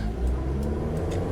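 A 1992 Toyota Corolla AWD diesel wagon with its fully mechanical 2C engine runs nearby, a steady low rumbling idle with a gritty even texture and no talk.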